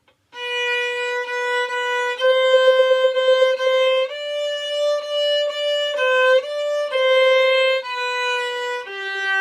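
A bowed string instrument plays a slow melody of sustained notes, each held and smoothly connected, alone and clear.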